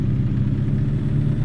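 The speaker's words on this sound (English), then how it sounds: "For those of you who don't know what an engine brake is, it's very loud." A truck engine brake in a video game sounds as a loud, rough low rumble that keeps up steadily through the short stretch, with no speech.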